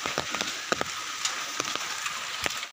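Rain falls steadily in a rainy-season outdoor setting, a soft continuous hiss broken by scattered sharper patters and drips close by.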